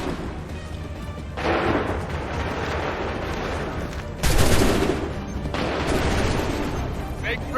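Musket volley in Assassin's Creed III, with dense rolling gunfire that surges at about 1.4 seconds and bursts louder near 4.2 seconds, filling the clip as a loud, sustained battlefield roar.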